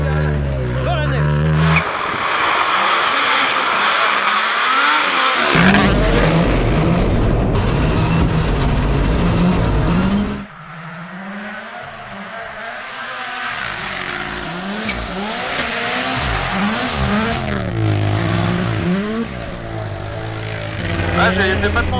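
A Toyota Yaris WRC rally car driven by Sébastien Ogier on a snowy Monte Carlo stage roars loudly from inside the cabin, its engine revving up and down through gear changes, with a brief drop between bursts of acceleration.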